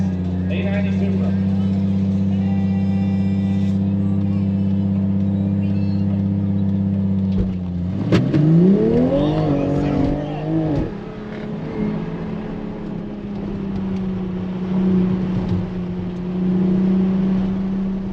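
A Dodge Hellcat and a Supra race at a drag strip, their engines first holding a loud steady idle, then roaring up together as they launch and accelerate away, leaving a fading engine drone.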